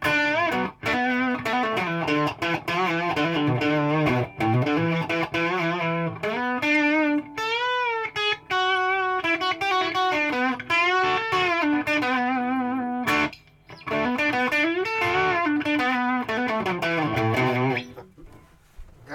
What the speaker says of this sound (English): So this is bridge pickup with some distortion.